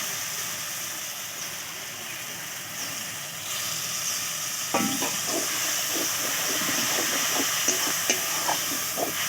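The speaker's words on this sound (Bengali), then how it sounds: "এবার একসঙ্গে মালে ভালো করে সব মিশিয়ে কষে নেব" Pointed gourd and fish curry fries in a pan with spices, giving a steady sizzling hiss; midway, stirring adds a run of soft scraping strokes over the frying.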